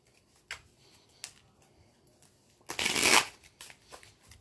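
Tarot cards are riffled together in one loud, fluttering burst, surrounded by scattered soft taps and shuffling clicks of handling the deck.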